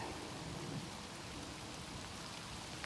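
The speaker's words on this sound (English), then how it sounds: "The rain's still coming down." Steady rain pouring down outdoors during a muddy metal-detecting outing, a continuous close hiss of drops striking the ground with no voices.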